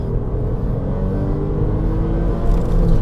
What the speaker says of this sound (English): It's also a joy to rev out,